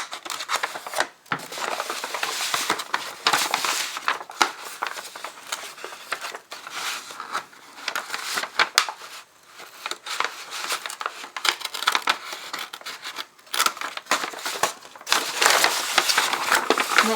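Scissors slicing through a stiff brown paper grocery bag, a steady crunching, crinkling stream of cuts close by, loud and continuous with brief pauses between strokes.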